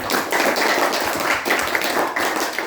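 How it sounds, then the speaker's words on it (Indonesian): A small group claps for Felix during a training session on recognizing potential, a steady, moderately loud patter of hand claps that continues throughout with no talking. "Tepuk tangan dulu untuk Felix"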